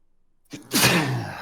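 A single person sneezes on a podcast recording, a short intake followed by a loud, close, breathy burst that trails off quickly.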